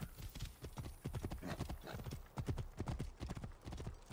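A horse gallops in Assassin's Creed Origins, steady rapid hoofbeats clattering close and loud for several seconds, with a brief whinny mixed in.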